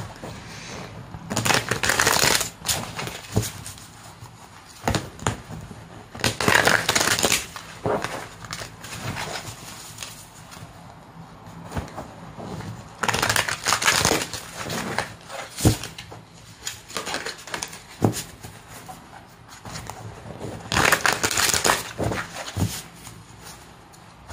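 Tarot cards are shuffled in repeated bursts of riffling and sliding, close and fairly loud, with short pauses between bouts and no talking.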